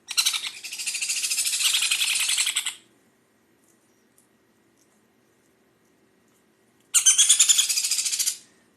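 Baby sun conures chirp during hand-feeding, giving a loud, sustained bout of shrill, rapid begging calls, then a pause of near silence before a second shorter burst of the same insistent chirping.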